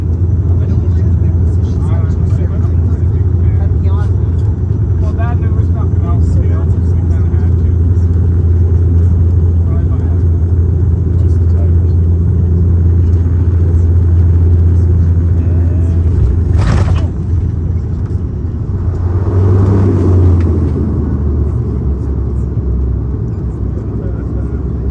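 An Air Canada Dash 8 Q400 airliner touches down on the runway at Cranbrook Canadian Rockies Regional Airport, with a steady loud cabin rumble and engine drone throughout, a brief sharp thump near the end, then a surge of roaring noise as it rolls out.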